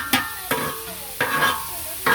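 Dal frying in a pan is stirred with a utensil, four distinct scraping strokes landing at irregular intervals over a continuous close sizzle.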